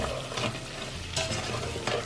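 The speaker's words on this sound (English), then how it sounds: "I'm just going to put my sugar into the butter mixture." Sugar being stirred into melted butter in a pan for Christmas flapjacks, a spoon scraping in a few slow, close sweeps over a soft sizzle, with no talking.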